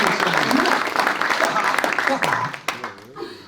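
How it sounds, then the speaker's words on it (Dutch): Audience applause at a Bildts cultural prize ceremony on a podcast stage, broad clapping that fills most of the moment before thinning out near the end, with a voice talking over it. "vind ik wel een applausje weer"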